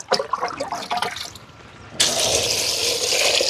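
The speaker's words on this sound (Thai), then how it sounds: "เขา ก็เอาน้ำใส่เนาะ" Water poured into a cooking pot while making Vietnamese-style rolled rice noodle soup with tapioca starch, a steady loud splashing pour that starts suddenly after a quieter stretch of light kitchen noise.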